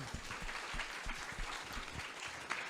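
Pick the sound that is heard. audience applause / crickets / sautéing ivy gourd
audience applause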